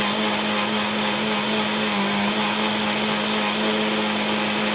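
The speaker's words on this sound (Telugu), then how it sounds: "చూడండి, మిక్సీ ఇలా మనం మిక్సీలో గ్రైండ్ చేసుకోవాలి" An electric mixer grinder blends spices into a paste for mutton korma, running as a loud, continuous, even motor whine with a steady buzzing drone throughout and no talking.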